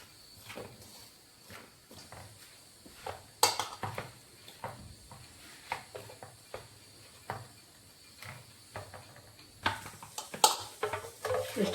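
Wheat flour dough with salt being kneaded by hand in a home kitchen, soft irregular slaps and thumps against a vessel with scattered clinks, close and unhurried, no voices.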